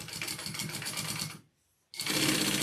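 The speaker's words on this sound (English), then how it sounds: "I'm going to sew the sides here and connect the sides" Sewing machine stitching the sides of a fabric clutch, a steady fast rattling run that stops briefly for about half a second, then resumes just as loud and close.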